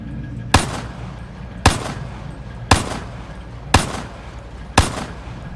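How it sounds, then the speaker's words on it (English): Gunfire from a video being synced in Camtasia Studio: five loud, sharp single shots spaced about a second apart, each with a short decaying tail, nothing else in between. "So we have good, clear indication on when the gun is firing."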